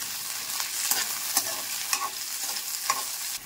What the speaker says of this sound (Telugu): పెద్ద సైజు ఉల్లిపాయలు తీసుకొని ఇలా పెద్ద పెద్ద ముక్కలు కోసి ఇలా నూనెలో వేయించుకోవాలి.